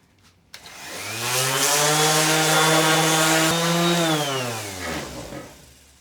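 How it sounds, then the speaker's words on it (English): A power sander spins up on a sailboat surface, whining steadily for a few seconds at close range before winding down, with no talking over it. "let me get sanding, and let's see what comes out"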